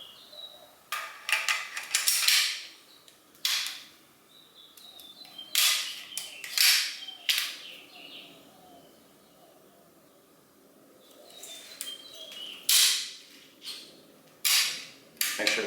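A Remington 700 rifle with a newly installed trigger is dry-fired and worked, giving sharp metallic clicks and snaps in separate clusters, close and crisp, with faint bird chirps in the background.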